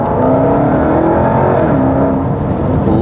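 A Jaguar XE SV Project 8 sedan's engine pulls hard under acceleration, a loud, sustained, close-up roar with a steady droning tone and no speech.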